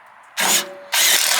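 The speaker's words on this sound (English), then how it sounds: "I'm going to stick these two screws back in here." A power drill drives two screws back in with two close, loud bursts of whirring: a short run, a brief drop, then a second sustained spin.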